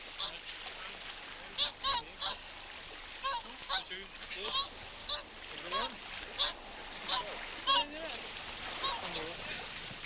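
A molting swan and her young cygnets on cold water give a series of soft honks and calls, spaced irregularly over gentle splashing, with a narrator speaking over them.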